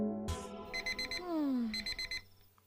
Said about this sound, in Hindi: अलार्म बजा